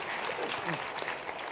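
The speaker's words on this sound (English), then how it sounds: "And give Eliud a clap, please." Audience applause at a technology conference talk, a steady wash of clapping from a crowd with a faint voice briefly audible beneath it.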